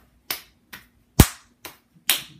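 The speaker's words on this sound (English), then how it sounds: "And do the hand clapping there." Five separate hand claps by one person during an online neurotechnology exercise session, sharp and close, spaced irregularly over about two seconds against near silence.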